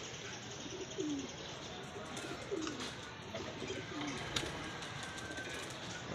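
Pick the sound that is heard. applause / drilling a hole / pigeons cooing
pigeons cooing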